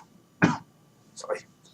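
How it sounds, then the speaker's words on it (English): A single sharp cough bursts out near and loud at a tabletop role-playing session, followed a moment later by a softer throat-clearing sound, against a quiet room. "No, that was just a general cough."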